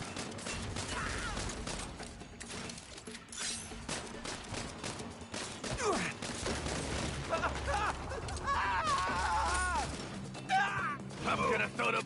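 Gunshots in Saints Row, scattered bursts of gunfire mixed with crashes and mechanical clatter during chaotic game action, with people talking over much of it.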